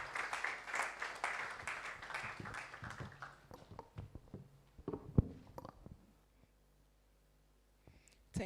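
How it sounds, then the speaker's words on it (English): An audience at a stakeholder forum claps for the chairwoman, a scattered round of applause that starts fairly full and thins to a few isolated claps before fading into near silence. "Oh, let's clap for her."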